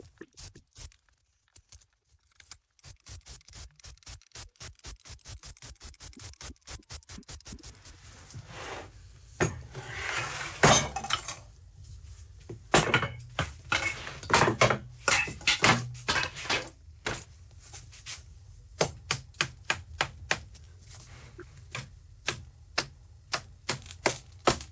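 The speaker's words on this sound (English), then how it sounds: "We're going to go ahead and take the mold off now. I'm going to be unscrewing everything." Screws being backed out and a plastic wedge prying a mold away from cured epoxy resin in a woodworking shop, heard as a long run of sharp close clicks and cracks, sparse at first, then dense and irregular, with no talk.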